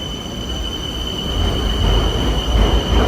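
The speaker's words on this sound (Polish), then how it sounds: "o, ten następny rusza." A train pulls out of a station in Bangkok, with a loud low rumble of wheels on rails building as it gathers speed and a steady high whine running above it, close by.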